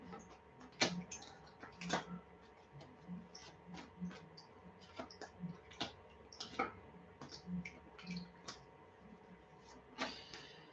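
Soft, irregular clicks and light taps of cards being shuffled, close and quiet, with faint background hum.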